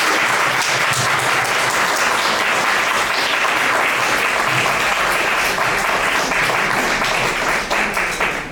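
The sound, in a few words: audience applause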